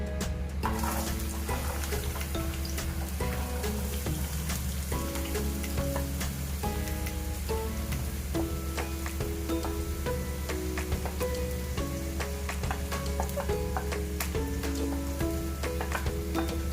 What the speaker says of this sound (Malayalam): അപ്പോൾ ഈ എണ്ണയിലേക്ക് നമുക്ക് ഈ സവാളയും ചെറിയ ഉള്ളിയും ചേർത്ത് കൊടുക്കാം